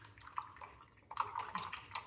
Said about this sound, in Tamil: இப்போ நம்ம வந்து இந்த ப்ரஷ்ஷை வந்து நல்லா க்ளீன் பண்ணிடலாம்.